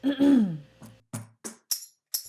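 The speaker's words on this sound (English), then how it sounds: "And here trying to clear the throat a little bit." A voiced, rasping throat clearing is followed by several short, breathy huffs and puffs of air, close and fairly loud.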